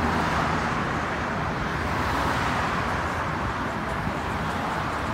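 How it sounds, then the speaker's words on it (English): Cars stream along East Colonial Drive in a continuous, close roadway rumble that holds steady and loud throughout, with no voices. "look at all those cars coming"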